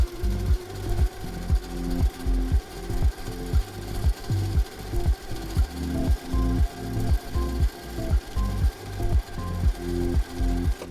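A sewing machine stitches a quilt block for a flower quilt, its needle hammering in a fast, steady mechanical rhythm with brief pauses, close and clear with no talking.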